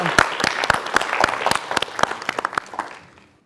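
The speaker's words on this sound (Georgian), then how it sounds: "მოდი ტრუბადური გავამხნევოთ აპლოდისმენტებით" An audience at a Georgian book quiz show bursts into applause, dense close clapping that holds steady for about three seconds and then fades away quickly.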